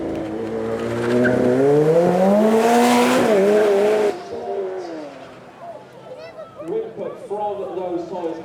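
A McLaren twin-turbo V8 supercar accelerates hard at a supercar weekend event with its tyres squealing. The loud engine climbs in pitch for about four seconds, then drops away while a voice talks nearby.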